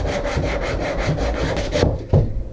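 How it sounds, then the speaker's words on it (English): Wood being hand-sanded during a wooden boat's aft cabin restoration, with mahogany mentioned, heard as a rapid series of rhythmic back-and-forth scrubbing strokes up close, ending with a couple of knocks. "back to sanding"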